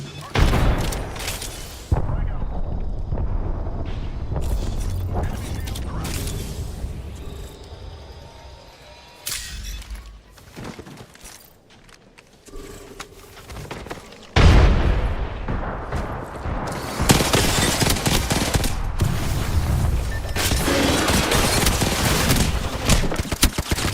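Grenade blasts and gunfire in the video game Apex Legends, with about six grenades thrown at once: dense, continuous booms and rattling shots fill the stretch, dip into quieter gaps near the middle, then surge loud again, with occasional talk underneath.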